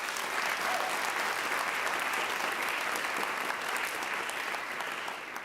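At a 2019 college peace oratorical contest, the audience gives a speaker a sustained round of applause. The clapping is dense, even and moderately loud from start to finish, easing slightly at the very end.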